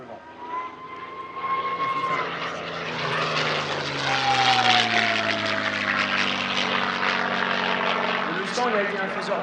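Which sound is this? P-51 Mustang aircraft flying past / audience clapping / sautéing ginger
P-51 Mustang aircraft flying past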